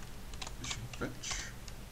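Someone types on a computer keyboard with irregular, close, crisp key clicks in short bursts, while a voice speaks softly in the background.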